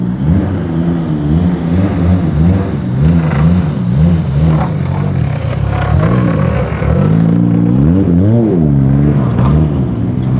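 Several cars arrive at a night meet in an underground Osaka car park, including a red Honda Civic EK and a CRX. Loud, close engines rev and rise and fall in pitch with throttle blips, filling the whole stretch without a break.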